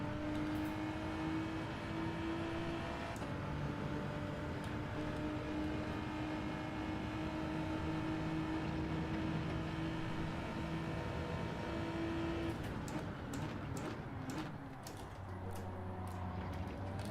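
A Toyota Supra's engine in Gran Turismo 7 drones steadily at sustained revs, with the tone holding then dropping and shifting near the end as the car brakes and changes gear; loud and continuous, with no talk.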